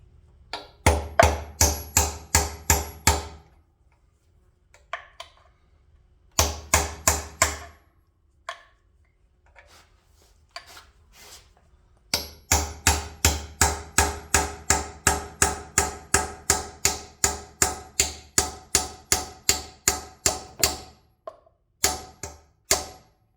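Sharp metallic hammer strikes on a chisel against an engine oil pan of a Perkins engine, in rapid runs, with pauses between bursts and a long steady series near the end, close and distinct.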